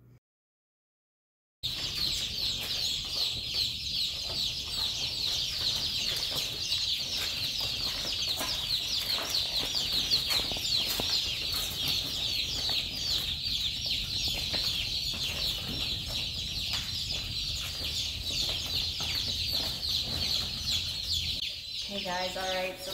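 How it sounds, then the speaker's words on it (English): A crowd of noisy baby chicks on a farm, peeping constantly in a loud, shrill, unbroken chorus that starts after a brief silence and continues to the end. "we've got chicks on the farm again, and they're so cute and noisy"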